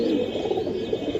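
A brown-necked pigeon gives a low, continuous coo close by, with nothing else heard over it.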